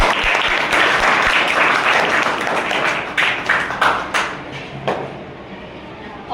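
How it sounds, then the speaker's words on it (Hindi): A school audience claps to welcome a Class 7 girl coming up to recite at a Mother's Day poem competition; loud, dense applause that thins into scattered claps and fades near the end, with a voice briefly under it. "तालियों से स्वागत करें।"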